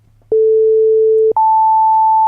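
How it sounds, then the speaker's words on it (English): Synthesized telephone busy signal from DECtalk speech software: two steady electronic tones, the second slightly higher, each held for about a second, loud and clean over a low constant hum. "Dial telephone numbers or generate tones."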